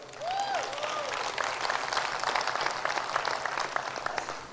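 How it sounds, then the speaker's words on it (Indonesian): Audience applauding for David at a Riway leadership training meeting, a dense steady patter of many hands filling the hall, with a few faint voices and a brief whoop near the start. "Kita kasih tepuk tangan untuk David yo."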